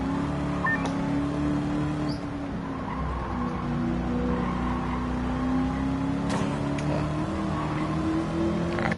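A race car in Gran Turismo 7 holds its engine against the rev limiter, a loud, sustained buzzing drone at near-constant pitch with faint tire noise, no voices.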